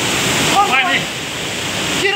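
Thoseghar waterfall roars as a broad, steady rush of falling water seen from near a cave, loud and unbroken, with a voice speaking briefly over it.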